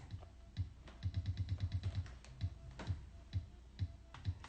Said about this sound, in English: the best-selling 12-inch of all time starts with a drum machine